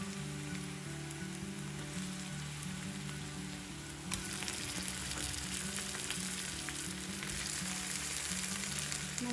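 Chicken pieces fry in a spiced masala for a Telugu-style chicken fry, giving a steady, close sizzle that turns a little louder and busier partway through, over a continuous background drone.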